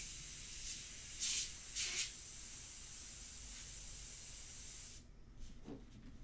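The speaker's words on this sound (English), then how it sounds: "sort of draw with the airbrush, I'm going to go very close to the surface" An airbrush spraying India ink close to the surface makes a steady, faint hiss throughout, with a few short louder bursts of spray near the start and a quieter, uneven finish.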